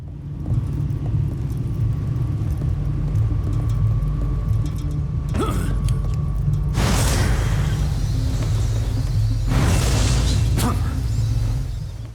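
Explosion of a riot policeman enemy in the video game Castlevania: Lords of Shadow 2, heard as loud broadband blasts over a steady low game rumble, one bursting around the middle and another a few seconds later.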